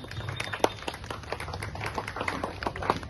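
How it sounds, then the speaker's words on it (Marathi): A crowd at Jinsi police station applauds a retiring police inspector, Dilip. The clapping is brisk and continuous, with scattered individual claps standing out from a steady, moderately loud patter. "जोरदार टाळ्या झाल्या पाहिजे सरांसाठी"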